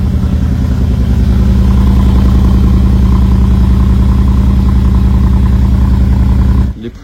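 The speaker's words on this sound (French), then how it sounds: "je vous filme l'échappement de dehors." Lamborghini Urus exhaust heard from outside the car on a Paris street: a loud, deep, steady idle rumble close by, holding for several seconds before cutting off abruptly near the end.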